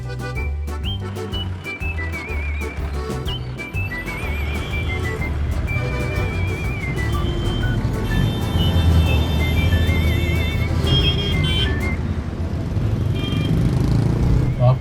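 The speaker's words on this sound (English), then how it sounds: "driving the Thar over here is an absolute joy" A 2022 Mahindra Thar drives on Rajasthan roads, its engine a steady loud drone with road noise that builds gradually, mixed with music and a voice talking over it.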